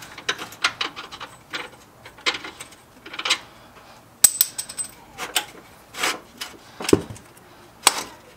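A hand ratchet removes the steering rack bolts on a 1996–2004 Ford Mustang, giving several bursts of rapid clicking and metallic clatter between short pauses, close and clear, with no talking.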